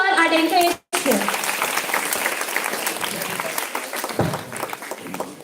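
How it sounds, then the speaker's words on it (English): Audience applause at a student speaking event follows a brief break after a voice, with a sustained, fairly dense clapping texture at moderate level that continues to the end. "So clap for her and encourage her"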